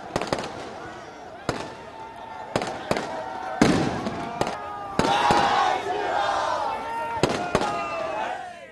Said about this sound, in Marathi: तर इकडे कल्याणमध्ये फटाक्यांची आतषबाजी पाहायला मिळाली